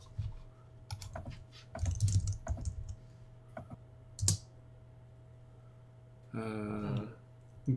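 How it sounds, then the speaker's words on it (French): Someone types on a computer keyboard in scattered bursts of quick key clicks, fairly faint and close, with a short denser flurry near the end and no talking. "Ouais, on entend un peu le clavier."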